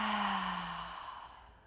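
An exhale out through the mouth during a yoga breathing flow: one soft, breathy rush of air, close and clear, fading away over a couple of seconds with no talking.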